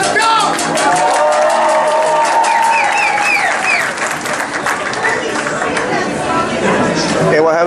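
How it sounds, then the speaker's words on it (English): A restaurant crowd bursts into loud applause and cheering, with whoops and chatter mixed in, sustained and close throughout. "Now give a round of applause, guys."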